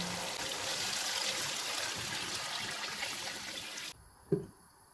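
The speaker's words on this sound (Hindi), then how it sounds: "अब इसमें 2 लीटर पानी डालेंगे।" Steady pouring of about 2 litres of water streams into a cooking pot of fried chicken for several seconds, then stops abruptly, followed by a brief clunk.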